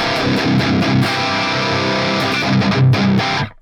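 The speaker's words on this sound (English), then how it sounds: "If it was in the middle, it would sound really brittle," A dense, buzzy, brittle distorted electric guitar amp tone plays chords and short riffs alone, bright and harsh, ringing steadily before cutting off abruptly.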